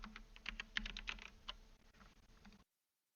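Someone types close on a computer keyboard in a quick run of key clicks that thins out and then stops abruptly.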